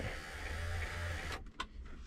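Rear electric blind motor on a Mercedes W126 560SEL whirs steadily for over a second, then stops with a couple of faint clicks, quiet and close.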